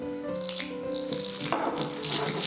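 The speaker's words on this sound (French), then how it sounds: "Ajoutez un peu d'eau et continuez à tuyer." Water poured into a bowl of bao filling while it is stirred, a steady trickling splash throughout, close and fairly quiet, with a brief brighter burst of liquid near the end.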